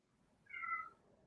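A human voice imitates a cat's meow: one short, drawn-out mewing call, fairly close and clear, over a quiet background.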